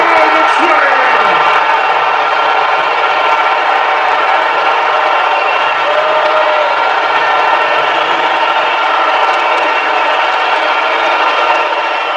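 A packed college basketball arena crowd roars loudly and continuously after a Duke slam dunk against Indiana, a dense wall of cheering and whooping that holds steady throughout, with an announcer's voice faintly underneath.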